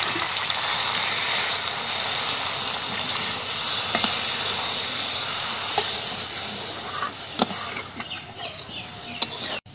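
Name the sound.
water poured into simmering hilsa fish curry, sizzling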